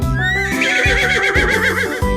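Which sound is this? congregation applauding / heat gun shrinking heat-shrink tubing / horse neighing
horse neighing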